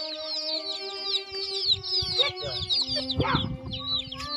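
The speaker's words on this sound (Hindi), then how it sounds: "बहुत अच्छी मुर्गी है।" Caged hens cluck in quick, close repeated calls with a rooster-like crow mixed in, while people talk over the birds throughout.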